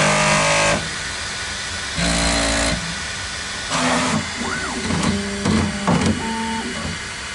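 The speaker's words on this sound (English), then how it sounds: "I got the printer running some calibration and getting it all set up for running the first build here." A 3D printer runs a calibration routine, its stepper motors whirring and whining in bursts of changing pitch, with rising and falling tones and pauses between movements, loud and close with no talk.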